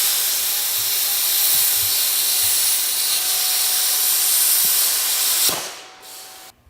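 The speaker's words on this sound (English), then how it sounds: "this is all welding, this is steel" Welding on the steel armature of a large sculpture in a foundry workshop produces a loud, close, steady hiss and crackle that runs almost unbroken before it cuts off near the end.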